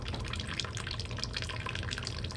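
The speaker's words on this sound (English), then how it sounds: "I'm going to have to aggressively flush it with water pressure" Water drains from a 22-year-old hot water heater during a vinegar flush under strong water pressure. It makes a continuous, close splashing rush with gurgling, dripping detail throughout, and no one speaks.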